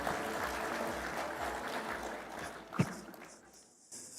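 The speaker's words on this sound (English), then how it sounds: "Another round of applause for our Vice Chair." Conference audience applauding the Vice Chair at a devolution conference, a soft, distant wash of clapping that fades away toward the end, with one louder knock partway through.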